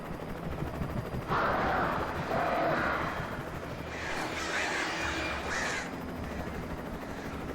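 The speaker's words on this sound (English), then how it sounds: "Of course, crows." Crows caw in the horror video game Alan Wake, harsh repeated calls in several bursts over a steady background rumble, fairly loud and close, with no talking.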